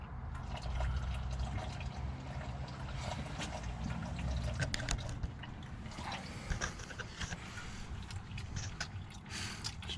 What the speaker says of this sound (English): It's just finishing up draining.